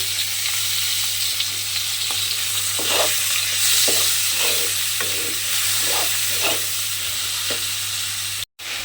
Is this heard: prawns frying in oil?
yes